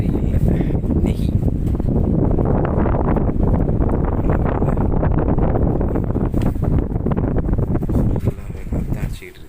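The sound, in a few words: strong wind blowing at night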